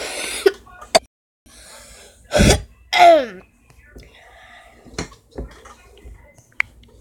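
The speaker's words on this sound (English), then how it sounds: "just coughing in a second" A person coughs and clears their throat nearby in a few sharp, rough bursts separated by quiet breathing and faint clicks.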